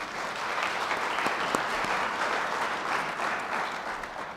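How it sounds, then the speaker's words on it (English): A roomful of about a hundred people at a transportation summit applauds, with sustained even clapping and a few sharper claps standing out. There is no speech over it. "give him a round of applause"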